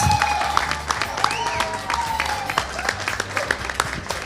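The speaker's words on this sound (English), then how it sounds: "Please give a round of applause to all participants" Applause from the audience at a university cooking competition honouring the chef participants: many people clap loudly with sharp individual claps standing out, plus a faint tonal hum in the background and a little crowd noise.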